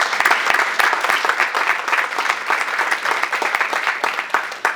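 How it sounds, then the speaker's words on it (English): An awards-ceremony audience applauds the TREC committee with sustained, dense clapping that fills the room at a steady level from start to finish, a few sharper claps standing out near the front. "A round of applause for the TREC committee"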